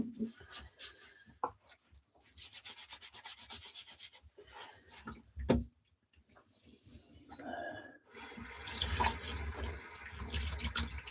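Dishes being washed at a kitchen sink with tap water running in bursts, with scrubbing and rubbing, pauses and clinks, and a louder stretch of flowing water at the end.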